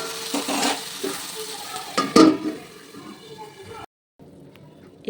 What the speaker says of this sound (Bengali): টমেটো কুচি দিয়ে আমি একটু নেড়ে চেড়ে নেবো